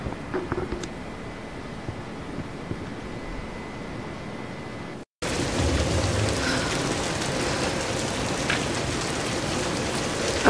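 Steady heavy rain hisses through a storm scene in the 2013 Tomb Raider game, with low thunder rumbling beneath. A brief silent cut occurs midway, then a louder, fuller downpour continues without talk.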